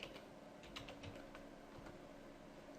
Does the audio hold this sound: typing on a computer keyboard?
yes